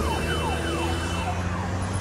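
A vehicle siren wails steadily, with repeated falling sweeps over a constant low drone, loud and continuous throughout the short stretch.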